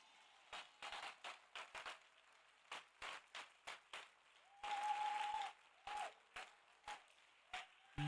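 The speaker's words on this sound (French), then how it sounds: "Peux-tu acclamer très fort?" A church congregation claps and cheers in short, separate bursts, with one longer and louder swell of applause partway through, heard fairly distant and soft.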